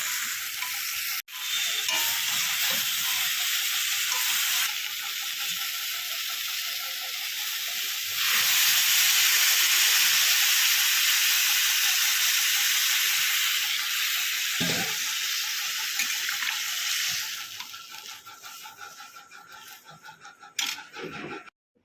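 Pumpkin and potato curry fries in a pan on the stove with a loud, continuous sizzle close by. A few clatters and stirring knocks break in, and the sizzle fades toward the end.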